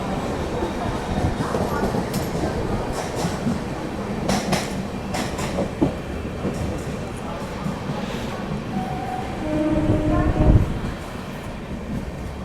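An AC Superfast Express train on the Mumbai–Haridwar route runs through a station, giving a steady onboard rumble of wheels and carriage with occasional rattles and a brief squealing tone near the end, with some voices in the background.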